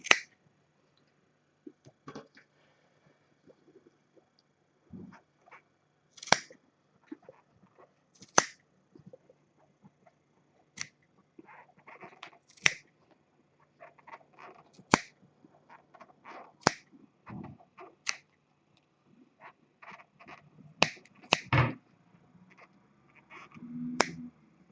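Sharp scissors snip through yarn pom-poms on a loom blanket in a quiet room, a series of irregular, close, crisp clicks and cuts with short pauses between them.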